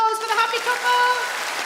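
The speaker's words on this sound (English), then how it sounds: "Round of applause for the happy couple." A stand-up comedy audience claps in a brief, dense burst of applause at a live show, the patter of many hands close and lively, with tonal voices sounding faintly alongside it.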